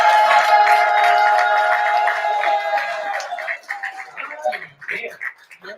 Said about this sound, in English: keep that round of applause going for your feature tonight